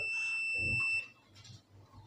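An inverter air conditioner circuit board under repair test gives a single steady electronic beep that lasts about a second and then stops, leaving faint low background noise.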